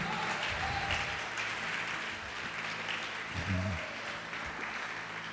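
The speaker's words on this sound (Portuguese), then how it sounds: "Pode aplaudir, glorificar." A church congregation claps together in a sustained, steady wash of applause during a sermon, with a brief low murmur of voices rising partway through.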